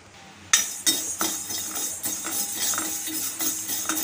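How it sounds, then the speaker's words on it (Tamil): Dry moong dal being stirred and roasted in a kadai, with repeated scraping clinks of a metal spoon against the pan at a steady rhythm, close and moderately loud. "கடாயில் நம்ம பாசிப்பருப்பை ஃபஸ்ட்டு வறுத்து எடுத்துக்க போகிறோம்"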